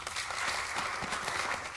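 An audience at a televised quiz competition claps for a team, a brief, dense burst of many hands applauding steadily at close range.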